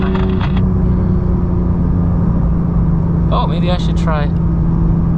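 A Porsche 992 GT3 Touring with a manual gearbox drives on rural mountain roads, its engine a loud, steady rumble heard from inside the car as the driver talks briefly.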